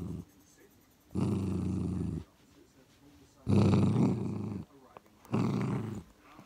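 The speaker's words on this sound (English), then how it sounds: "Are you growling at me, Minnie?" A dog growls in three long, low rumbling bursts close by, separated by short pauses, with no talk in between.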